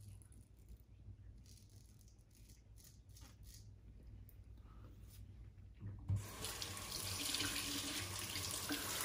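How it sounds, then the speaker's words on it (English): Faint background clatter gives way to a tap suddenly turned on, water gushing steadily to rinse off a razor blade from a Declaration Grooming shaving set. "Rinse this blade off."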